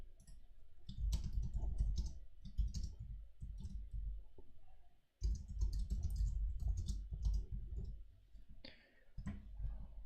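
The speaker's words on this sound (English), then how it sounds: "Little bit of typing ASMR" Steady typing on a computer keyboard during a live crypto trading stream, a dense run of clicky keystrokes with a brief pause midway, close and prominent with no talk over it.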